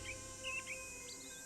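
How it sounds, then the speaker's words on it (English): A blue jay call plays from a tape recording inside the Nancy Drew: Stay Tuned for Danger game: a few short, high chirping notes over a steady low background hum. "Blue jay."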